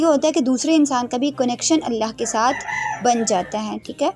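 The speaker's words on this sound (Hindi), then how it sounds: "पीछे मेरे मुर्गे की आवाज़ आ रही होगी आपको" A pet rooster crows in the background, faint and brief, while someone talks continuously in the foreground and mostly covers it.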